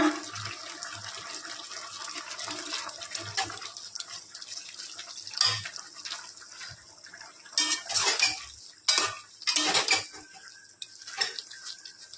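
Mixed vegetables are stirred in a pan, with clattering spoon-on-metal scrapes and knocks over a watery sizzle, growing louder and more choppy in bursts toward the end.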